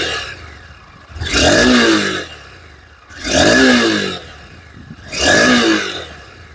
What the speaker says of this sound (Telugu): సో ఎగ్జాస్ట్ నోట్ అయితే వినిపిస్తాను.